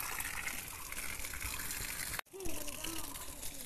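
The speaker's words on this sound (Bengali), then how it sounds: "গাছে জল দিতে হচ্ছে" Water gushing steadily from a hose onto garden plants, including an Indrakamal plant, during summer heat; a continuous broadband splash with a short break partway, close by.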